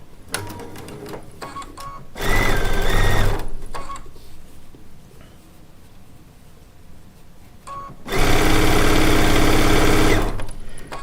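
Sewing machine stitching quilt seams on a disappearing four-patch block, two loud, close bursts of rapid whirring stitches, the second longer, separated by quiet fabric handling.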